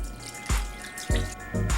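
Beef broth poured through a strainer, with a steady liquid trickle and splashes broken by three sharp pours or drips, close up and without talk.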